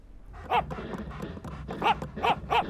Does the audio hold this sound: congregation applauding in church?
no